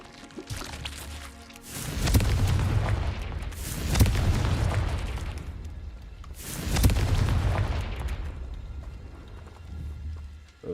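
Booming fire-spell explosions in the Hogwarts Legacy video game, three big rumbling blasts a few seconds apart, each swelling loudly and then trailing off into a long low roar.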